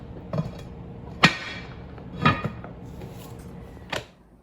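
Metal pot lid on a pot of stewing collard greens with ham hock, giving a few sharp clinks and knocks spaced about a second apart, close and fairly quiet against a low background.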